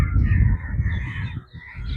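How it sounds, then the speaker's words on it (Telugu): Crows cawing noisily near a canal lined with crop fields: harsh, overlapping calls, close and fairly loud, carrying on through the whole stretch without talk. "కాకులు చూడండి ఎంత సందడి చేస్తున్నాయి"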